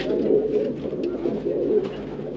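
Qasid pigeons coo in soft, low, rolling calls, close by and repeated through the moment with no talking over them.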